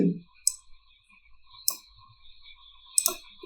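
Crisp single key presses on a computer keyboard in a quiet room, three distinct clicks spaced over a few seconds, with a faint hum in the background and no talking.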